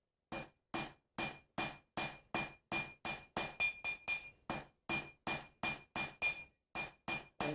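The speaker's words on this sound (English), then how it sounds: "you start hitting your material again" A blacksmith strikes hot metal while forging a slot punch, delivering about twenty sharp, ringing hammer blows in a steady, evenly spaced rhythm, close and loud with no talk.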